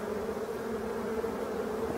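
Black honeybees stream in and out of a small hole in an abandoned forest hive, making a dense, continuous buzzing drone that holds steady throughout, close and alone without voices.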